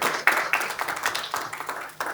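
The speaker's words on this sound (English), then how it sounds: "Round of applause for MBO," Applause from an audience at an investor forum, a short burst of scattered, fairly close hand claps with uneven rhythm, no talking over it.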